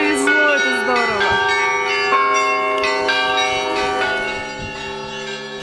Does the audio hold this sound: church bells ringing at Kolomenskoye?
yes